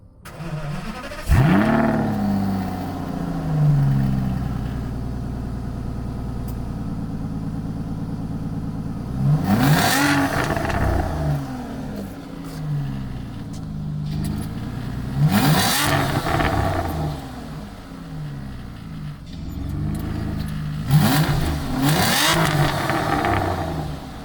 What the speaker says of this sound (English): Under the hood though is a 6-liter V12 naturally aspirated engine that just sounds